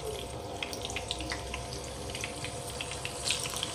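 Pieces of bottle gourd fry in hot oil in a pan after paneer, giving a constant loud sizzle and crackle with scattered bright pops throughout, no voices.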